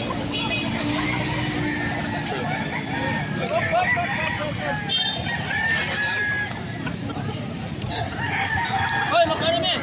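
Fighting roosters crow and cluck at a gamefowl selling farm in Angeles City, several birds overlapping at close to middle distance, with background chatter and a passing car.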